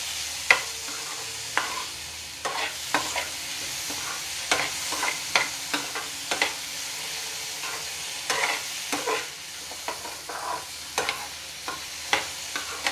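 Tomato rice being stirred in a frying pan over medium heat, with a quiet sizzle under repeated scraping and clinking strokes of a spoon at an irregular rhythm.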